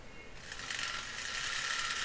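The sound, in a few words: sewing machine stitching a double seam on a dress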